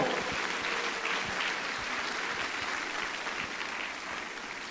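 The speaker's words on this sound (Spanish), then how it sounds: "Alguien tiene que dar un aplauso fuerte al Señor." A church congregation applauds the Lord during a sermon, a dense, steady wash of clapping that holds at an even level throughout and fades slightly near the end.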